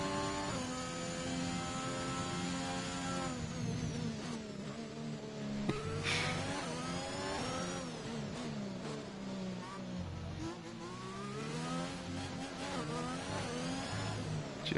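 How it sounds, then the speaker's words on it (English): An Alpine Formula 1 car in a racing video game screams and revs in rising and falling bursts, wheels spinning under a loud, continuous mechanical whine, during a race at Mexico. "You can hear the wheel spin on Dan's car."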